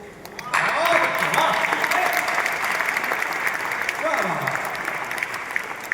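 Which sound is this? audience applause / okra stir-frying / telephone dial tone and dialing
audience applause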